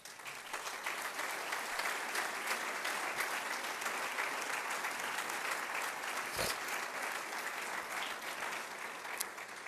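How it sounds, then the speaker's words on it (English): Audience at a fall 2015 college State of the College address applauds the steering committee, a dense, steady wash of many hands clapping that holds evenly for about ten seconds with no talking. "Please help me applaud the steering committee for its hard work over the last many months."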